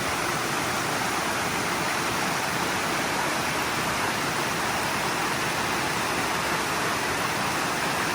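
The Leura Cascades tumbling beneath a bridge in the Blue Mountains, Australia: a close, loud, unbroken roar of rushing water that holds steady throughout, with no voices.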